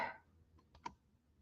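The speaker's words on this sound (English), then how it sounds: "Trying to type in the link" Computer keyboard keys tapped while entering a web link, a few faint separate clicks in a quiet room after a brief fading noise.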